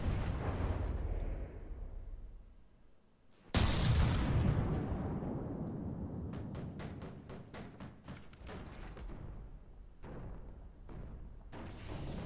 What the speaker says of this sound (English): An explosion slowed the game down, and I think that was the huge missile that did the damage.